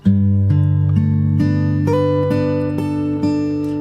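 Fingerstyle acoustic guitar plays the second bar of a song intro from Aladdin, with several plucked notes ringing together in a steady, even arpeggio. It is close and clear, and no one speaks.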